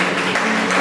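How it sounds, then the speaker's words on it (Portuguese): A church congregation at a garage service applauds, a loud, continuous blur of many hands clapping close by for a short moment, with no voices standing out. "E aplaudir o Senhor bem forte"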